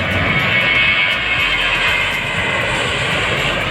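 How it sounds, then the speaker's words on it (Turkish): Loud, steady jet engine roar of an airplane taking off from Diyarbakır fills the scene, a broad continuous rumble with a high whine on top, holding strong throughout. "Şu uçağın kalkış sesine hastayım."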